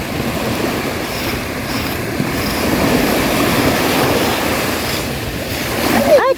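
Sea waves wash onto a sandy beach in a steady, loud rush of surf with wind noise, while a voice calls out briefly near the end.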